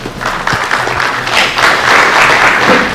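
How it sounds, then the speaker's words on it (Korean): Steady, full applause from an audience welcoming a National Assembly member to the podium at the reopening ceremony of the Wonju Cultural Center, sustained and fairly loud throughout. "여러분 큰 박수로 환영해 주시기 바랍니다"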